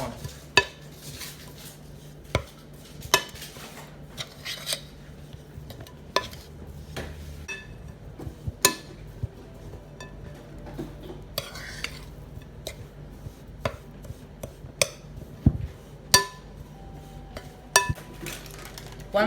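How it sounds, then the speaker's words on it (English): Butter, coconut and cake mix are stirred together in a bowl for an apple slice. Sharp utensil clinks and knocks against the bowl sound at irregular intervals over a soft, steady stirring. "Now we want to combine all this together. Butter, the coconut and the cake mix are all"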